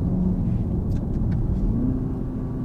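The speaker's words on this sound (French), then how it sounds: "les deux moteurs sont en full" Hybrid car with both motors running at full output in sport mode at -80 degrees, a loud steady low rumble of engine and road noise with no talk.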